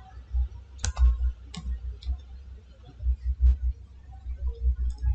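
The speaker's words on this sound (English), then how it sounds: "Now click on this three dot and uninstall." Sharp computer mouse clicks, a handful of separate clicks spaced over a few seconds over a low steady hum, with no talking.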